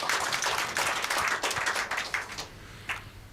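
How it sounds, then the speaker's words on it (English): People in a studio during a call-in radio programme clapping, a short run of fairly quick, moderately loud hand claps that tapers off after a couple of seconds, with one last clap at the end. "Clap for the vigilante people."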